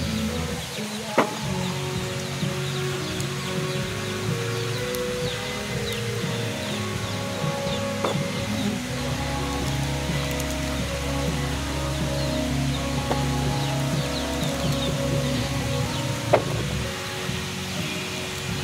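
Rain beginning to fall under trees outdoors, a steady broadband hiss with scattered drips and faint background rumble, continuous and fairly close throughout.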